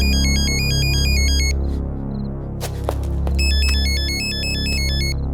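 A phone ringtone plays loud and steady as an incoming call rings, in a tense police confrontation scene of a Telugu action film, with two bursts of repeating electronic melody separated by a short gap and low background music underneath.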